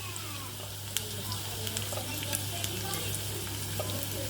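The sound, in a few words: onions frying in a pan for chicken curry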